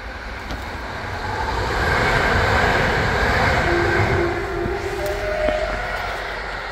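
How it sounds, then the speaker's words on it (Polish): Train passing near an old pre-war railway bridge over the Gliwice Canal, a loud, steady rumble that builds and holds with faint rail clatter and tonal squeals, unaccompanied by voices. "Mamy szczęście, bo właśnie zbliża się pociąg."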